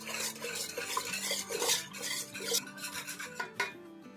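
Thick yogurt being beaten in a bowl, a steady scraping, rubbing rhythm of utensil against the bowl, close and fairly loud, with no talking.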